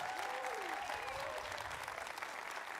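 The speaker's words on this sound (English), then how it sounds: "Let's have one more big round of applause for the Ted Ducey CMS Hall of Fame Class of" Steady applause from an audience at a CMS Hall of Fame induction ceremony, a continuous wash of clapping heard fairly faint and distant, with a voice briefly audible underneath.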